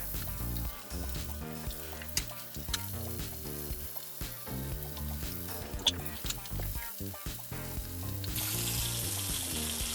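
Peppercorn-crusted steak searing in a hot pan for steak au poivre, a loud continuous sizzle and crackle with sharp spits and pops throughout, growing brighter and hissier toward the end.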